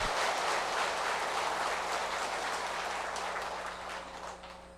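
Applause for a monk at a Buddhist stupa dedication service, a dense sustained clapping from a large crowd that fades slightly toward the end, with no talk over it.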